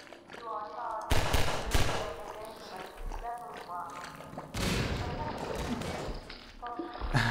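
Gunfire in Half-Life 2 aimed at a barnacle: two heavy bursts of shots with booming thuds, while someone talks over and between them.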